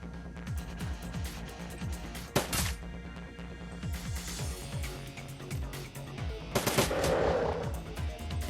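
Gunfire from the Shadowrun: Dragonfall video game, with a few loud, sharp shots standing out over a dense, busy game soundtrack and low rhythmic effects, including a burst near the middle and a louder cluster late on.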